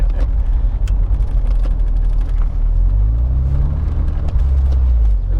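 A 1993 Porsche 968 Cabrio cruising on the road, its engine giving a loud, steady low rumble with a gear change and rising revs near the end, heard from inside the car with no talking.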